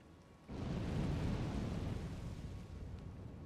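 A roaring fire-breath attack in Elden Ring bursts in at half a second and holds as a loud, broad, rumbling whoosh through to the end, with no talking over it.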